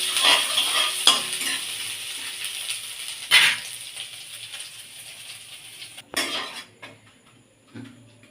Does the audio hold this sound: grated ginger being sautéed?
yes